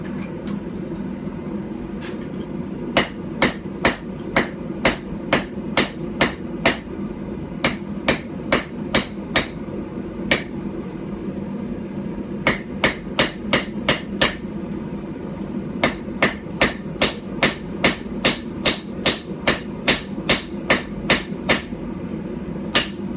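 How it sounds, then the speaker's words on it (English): Hammer strikes forge metal on a tiny stump anvil driven into firewood, sharp ringing blows in quick rhythmic bursts with brief pauses between groups, close and clear over quiet background. "I'm also having to be way more careful with my strikes because that is a tiny, tiny anvil."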